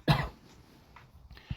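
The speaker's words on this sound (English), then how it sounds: "Apologies again for the cough." A single loud cough close to the microphone at the start, followed by a few faint, brief throat sounds in a quiet room; no talking.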